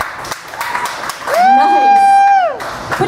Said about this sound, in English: Clap harder.